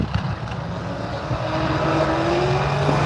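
An Oldsmobile drag racing car launches down the strip, its engine note rising steadily into a loud, building roar with a climbing whine.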